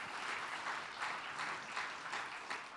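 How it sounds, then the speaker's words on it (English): An audience gives a round of applause after a talk and question session, a soft, fairly distant patter of many hands that pulses unevenly and continues throughout. "how about a big round of applause for Clayton?"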